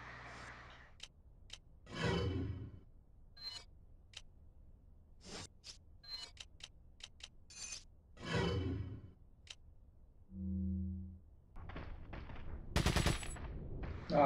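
Gunfire from the video game Resident Evil 4: scattered sharp shots and short bursts spaced across a quiet scene, with a few whooshes and a low tonal hum between them, fairly faint and without talk.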